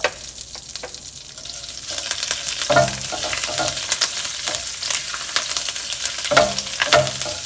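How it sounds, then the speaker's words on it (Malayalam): Urad dal, curry leaves and dried red chillies fry in hot oil in a pan, a steady close sizzle with crackling pops and a few louder bursts as the spices are stirred, no talking. "ഉഴുന്നുപരിപ്പ് ഒരു ലൈറ്റ് ബ്രൗൺ കളർ ആകുമ്പോൾ ഇതിലേക്ക് നമ്മൾ എടുത്തു വച്ചിരിക്കുന്ന 2 തണ്ട് കറിവേപ്പിലയും 3 വറ്റൽമുളകും ചേർത്ത് മിക്സ് ചെയ്തെടുക്കുക."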